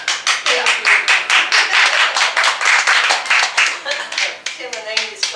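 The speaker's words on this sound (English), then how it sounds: "appreciate the claps, because when you're clapping out there" An audience claps in a steady, rhythmic run of sharp hand claps at a small home concert, lively and fairly close, with a few voices underneath.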